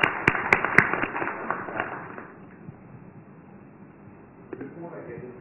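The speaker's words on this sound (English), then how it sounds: "Do let's give him a round of applause for joining us on stage." Audience at a Nissan Micra diesel launch event in Delhi clap and the applause fades away, while a speaker talks over the start.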